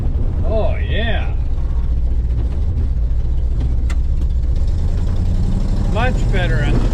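Car engine fitted with a Holley Sniper EFI system runs loud and close with a deep steady rumble as the throttle is worked, while people talk over it.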